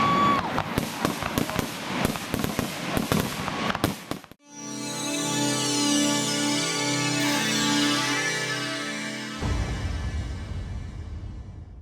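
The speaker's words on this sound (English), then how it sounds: "I came back just like to watch the fireworks again." A rapid, crackling volley of firework bursts pops densely for several seconds, then gives way to a loud sustained droning blare that fades later, at a Fourth of July fireworks show in Southern Indiana.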